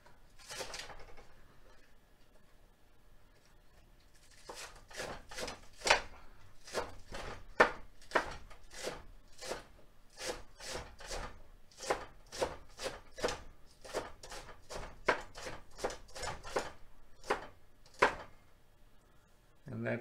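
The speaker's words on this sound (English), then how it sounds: "Then for the green onion, I'll just cut them into small" A knife chops green onion into small rounds on a cutting board, about two dozen crisp, evenly spaced knocks close to the microphone after a quiet start, with a voice talking faintly at times.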